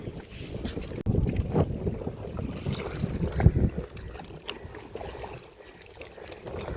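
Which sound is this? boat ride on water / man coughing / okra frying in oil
boat ride on water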